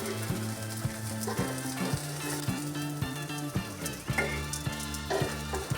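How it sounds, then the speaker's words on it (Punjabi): Eggplant slices fry in oil on a tawa pan with a steady crackling sizzle. A continuous loud hum and regular rhythmic thumps run through the background alongside it. "ਬੈਂਗਣ ਆਪਣੇ ਬਿਲਕੁਲ ਫਰਾਈ ਹੋ ਗਏ ਨੇ"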